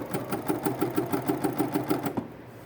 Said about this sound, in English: So I'm going to lower my tension a whole point. And we'll stitch a little bit more.